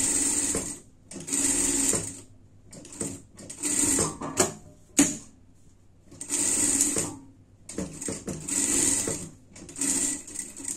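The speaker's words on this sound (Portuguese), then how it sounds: "A gente vai passar uma costura daqui até aqui" A sewing machine stitching a seam on a dress sleeve runs in loud, close bursts of rapid whirring, stopping and restarting about five times.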